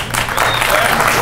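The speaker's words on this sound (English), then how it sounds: "Please save your applause or put my time back on." An audience at a public forum on Amendment 2 in Jefferson City breaks into loud, steady applause, with crowd voices mixed into the clapping.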